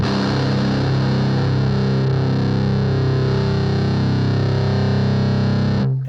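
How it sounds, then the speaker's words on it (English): Electric guitar played through a Sondery Metal distortion pedal, a heavily distorted sustained note ringing out loud and steady for several seconds with thick harmonics before stopping sharply at the end. "okay, we're getting distorted ring out."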